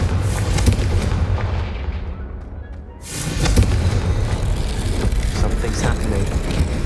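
In Hogwarts Legacy, the Confringo spell sets off booming, explosive blasts that come loud and close, with a deep rumbling tail and a brief dip before more crashing impacts. A voice speaks over the noise.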